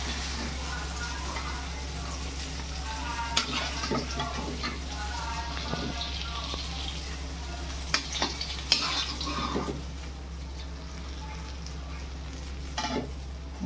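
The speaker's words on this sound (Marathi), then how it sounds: "अशाच प्रकारचे मी सगळ्या मच्छी तळून घेते" River fish fry in hot oil in a pan, a steady close sizzle punctuated by scattered clinks and scraping taps as the pieces are turned, with a low constant hum underneath.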